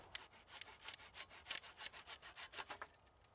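Fast, even back-and-forth strokes of a hand saw cutting through a hazelnut sapling, close and fairly quiet, with no talking.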